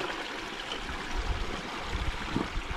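Water rushing and gushing out through a broken small earth dam at a traditional drained-pool fishing spot in Konkan, a steady broadband wash of flow, moderately loud and continuous throughout.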